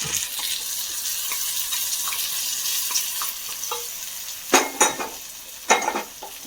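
Onions frying in a pan for brinjal masala curry give a steady, close sizzle, with a few sharper scrapes and taps of a stirring spoon toward the end.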